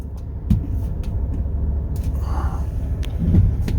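A 2019 Ford F250 flatbed truck idles nearby with a low steady rumble, overlaid by a few sharp clicks and knocks inside the cab.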